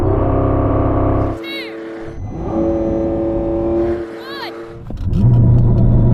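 A supercar such as a Lamborghini Revuelto, Porsche 918 Spyder or Ferrari SF90 launching in a drag race, its engine loud and steady before dropping and surging again to a roaring launch near the end, with people talking over it.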